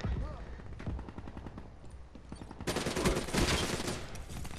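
Rapid automatic gunfire from a Black Ops 3 online free-for-all match on PS3, bursts of shots with a denser, louder volley in the final seconds, no talk over it.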